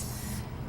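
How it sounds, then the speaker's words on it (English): High heat cooking spray is spritzed into a cast iron pie iron, a single short aerosol hiss up close. "you want to start just by spraying it with some high heat cooking spray"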